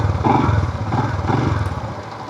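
Royal Enfield Scram 440 motorcycle with its relaxed 440 engine, started and settling into a steady, close, thumping idle with a rhythmic low pulse and no talk.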